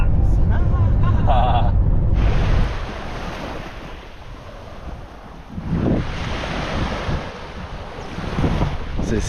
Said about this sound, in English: So this is Dingo Beach and it's stunning.